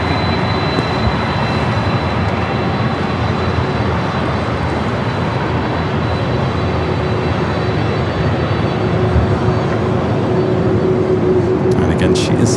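A Delta jet airliner taking off from runway 24 left at LAX, heard as a loud, unbroken broadband roar that holds steady throughout with no breaks.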